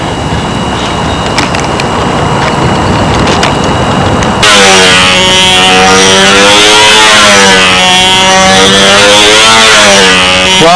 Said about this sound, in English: The motor definitely likes running on muffler pressure a lot better than uniflow